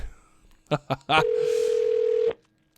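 Telephone call tones: a few short beeps followed by a steady held tone lasting about a second, loud and close, like a line connecting before reaching a voicemail box.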